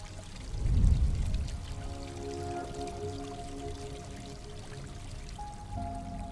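Water pouring down in the game Gris: a swelling gush near the start, then a steady soft flowing stream under sustained musical tones.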